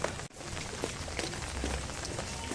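Steady rain falls on surfaces in a dense, even patter, with a brief thump near the start and scattered louder drops throughout.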